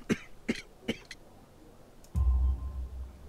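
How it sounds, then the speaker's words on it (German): A video game character in Sherlock Holmes: The Devil's Daughter gives three or four short, raspy coughs in quick succession, close and dry, followed after a pause by a low rumbling thud. "Ihr Husten klingt nicht gut."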